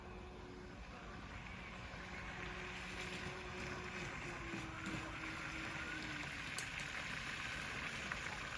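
A remote-controlled fishing bait boat running on open water as it turns back toward shore, its motor a faint steady hum under wind noise and light water sounds.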